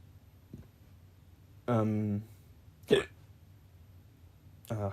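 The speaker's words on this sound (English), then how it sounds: "hiccups" A person hiccups several times: sharp, sudden gulps spaced a second or so apart, with a brief voiced sound between them, close to the microphone in a quiet room.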